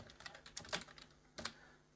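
Quiet bursts of keystrokes on a computer keyboard as a name is entered into a form, a few quick clusters of taps with short pauses between, close and alone.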